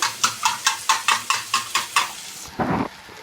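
A spoon scrapes a pan in a brisk steady rhythm, about nine strokes, while a beaten egg and salt mixture is stirred, followed by a short louder burst of sizzle.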